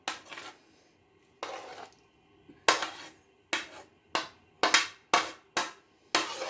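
A spoon scrapes chopped orange, apple and banana into a bowl for a fruit chaat, giving a series of sharp clinks and scrapes, about ten in irregular rhythm, close and clear with no talk.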